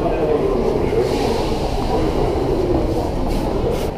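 A St. Petersburg metro train rides through a tunnel with a loud, steady rumbling roar and faint rail clatter, and voices speak over it.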